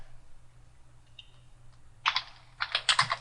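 Computer keyboard typing in two bursts of quick, close key clicks, starting after a quiet stretch and growing denser toward the end, with no talking.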